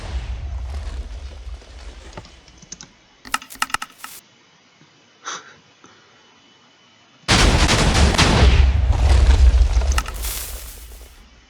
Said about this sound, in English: just fire off every single cannon because we can